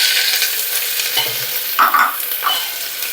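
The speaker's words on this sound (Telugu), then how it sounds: "ఆయిల్ వేడెక్కిన తర్వాత మనం ఇక్కడ సన్నగా కట్ చేసి పెట్టుకున్నాం కదా, ఈ ఆనియన్స్ని ఇందులో వేసేసుకోవాలి." Thinly sliced onions sizzle in hot oil for a fenugreek-leaf dal, a steady broad hiss close by. Occasional scraping stir sounds rise over it, and nobody speaks.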